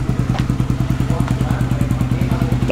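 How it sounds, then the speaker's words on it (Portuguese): A small motorcycle runs at a karting track, its engine close and loud with a fast, even pulsing beat throughout. "Tá aí a motinha, filho."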